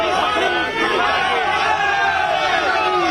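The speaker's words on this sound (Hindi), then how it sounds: "लेकिन प्रधानमंत्री ने उन्हें रोककर भारत माता की जय के नारे लगवाए।" Large crowd, many waving tricolour flags, shouting the slogan "Bharat Mata ki Jai" together, a dense, loud wall of voices sustained throughout before cutting off abruptly.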